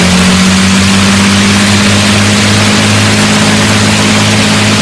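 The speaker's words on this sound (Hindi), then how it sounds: "डेढ़ हजार हॉर्स पावर वाले चार शानदार रोल्स रॉयस मर्लिन इंजन थे।" The four Rolls-Royce Merlin engines of a Lancaster bomber roar at full power, a loud, continuous, dense drone with a steady low hum throughout and no voices.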